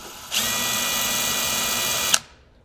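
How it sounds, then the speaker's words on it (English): A handheld drill marks hole positions in the tender frame of a live steam engine, running as a steady, close whine for about two seconds with a short stop at the end and no talk. "I'll come in with a hand drill and just mark these where they should go"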